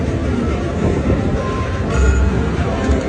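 A train in the Dragon Train video game rumbles loud and close with a dense, continuous rolling clatter and faint metallic squeals.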